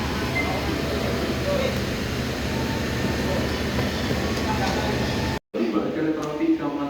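A train at Semarang Tawang station in Indonesia rumbles steadily with a dense low roar, then after a brief cut the sound thins to a quieter platform ambience.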